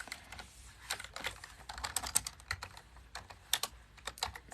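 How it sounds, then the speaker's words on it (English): Rapid, uneven typing on a computer keyboard, close and fairly quiet, with clustered key clicks and occasional louder strokes and no speech. "So it's just like a lot of typing."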